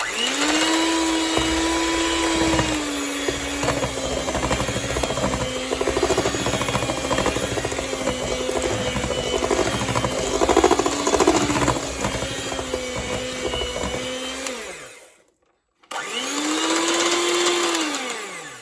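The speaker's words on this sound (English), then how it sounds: "Give it a whisk." An electric whisk beats batter for an orange marmalade cake, its motor holding a steady loud whine with slight pitch shifts, cutting out briefly near the end and then starting up again.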